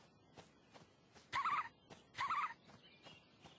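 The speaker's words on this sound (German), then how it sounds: "da ist ein Vogel" Two loud gobbling bird calls from the video game Camelbirds, each a sharp burst of turkey-like warbling about a second apart, over soft rhythmic footfall-like thumps.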